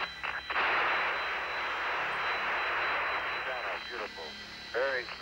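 A lunar module ascent engine fires for liftoff from the Moon in a 1988 film scene, a loud, sustained roaring rush lasting several seconds, with radio-style voices talking before and after it.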